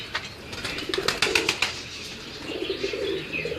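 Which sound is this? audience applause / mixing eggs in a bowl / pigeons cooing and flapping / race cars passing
pigeons cooing and flapping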